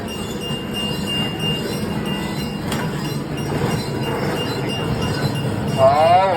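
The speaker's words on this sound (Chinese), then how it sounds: "我们火车现在来到了钓鱼区哦" A small tourist train running through a farm park in Kaohsiung, its continuous rumbling and rattling carriages heard close by, with a brief clink and a rising whistle-like tone near the end.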